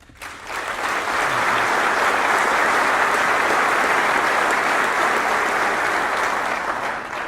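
Audience applause at a Hall of Fame speech, a dense, sustained wash of many hands clapping that rises quickly and holds steady and loud throughout, with faint crowd murmur beneath.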